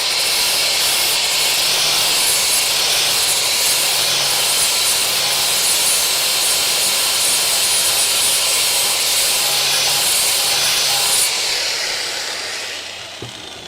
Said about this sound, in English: I need to get with the flap wheel.